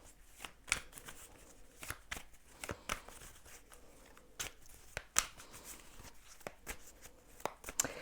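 Tarot cards are shuffled by hand, close and quiet: a string of irregular crisp riffles and slaps, each short snap standing out sharply against near silence.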